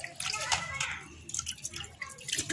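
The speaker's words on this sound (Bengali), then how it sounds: "ডালগুলো ভালো করে ধুয়ে নিতে হবে" Lentils (dal) being rinsed by hand in water in a home kitchen, giving close splashing, sloshing and dripping in uneven bursts.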